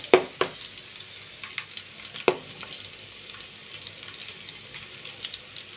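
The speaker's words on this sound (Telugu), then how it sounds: "మ్యాగీలో మ్యాగీ మసాలా ఉంటుంది కదా, అది కూడా ఆయిల్లో ఫ్రై చేసుకోండి" Maggi noodles and green chilies fry in hot oil with a steady close sizzle, broken by a few sharp clacks of a spatula stirring early on and sparse crackles throughout; nobody speaks.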